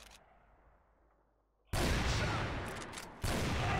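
Gunfire in the online shooter CrossFire, during a tense clan match: a faint, quiet stretch, then a loud, dense burst of rapid shots that dips briefly and resumes near and continuous.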